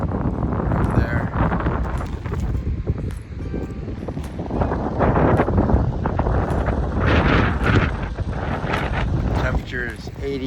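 Steady wind buffeting the microphone at a lakefront campsite in Newfoundland, a loud continuous rumble and gusting throughout, with a voice talking over it.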